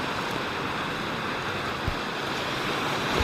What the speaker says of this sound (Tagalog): Pag ganitong oras, bandang 10 AM ito, ganito kalakas ang alon.